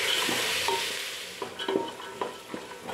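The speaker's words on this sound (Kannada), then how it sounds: "ಸ್ವಲ್ಪ ಫ್ರೈ ಮಾಡಿಕೊಂಡ್ರೆ ಸಾಕು." Legumes and fresh green peas fry in a pan for a vegetable sambar, giving a steady close sizzle overlaid with irregular scraping and clinking of a spoon stirring against the pan.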